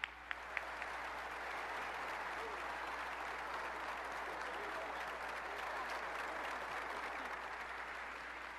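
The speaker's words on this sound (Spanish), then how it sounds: "Estamos escuchando la gran ovación que le generó este impecable discurso de Manuel Velasco" Sustained ovation from a large crowd after a political swearing-in speech in Chiapas, Mexico: dense, steady applause with cheering, loud and continuous throughout.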